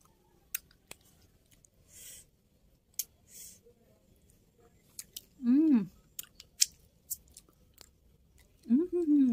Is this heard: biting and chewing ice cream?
yes